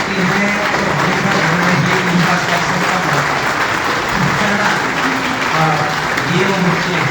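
Sustained audience applause at an event honoring a student's selection, a dense steady wash of clapping for several seconds with voices faintly underneath.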